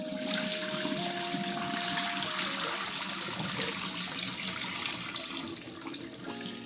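Water pours out of a cooking pot through a noodle-strainer lid into a sink, a steady rushing gush that stays close and loud before easing slightly near the end, with no speech.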